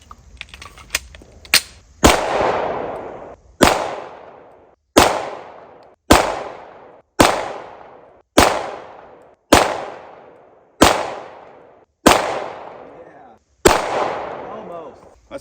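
A suppressed Ruger American Gen 2 Predator rifle fires about ten shots at a metal target outdoors, each a sharp, loud crack with a short decaying tail, spaced roughly one to one and a half seconds apart, after a few lighter clicks.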